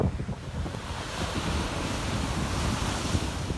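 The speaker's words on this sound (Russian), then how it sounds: "такой сильный ветер, что не знаю, получится ли поднять дроны или нет" Strong seaside wind in Crimea, near Kazantip, buffets the microphone in a steady loud roar over crashing surf, with constant gusting rumble and no voices.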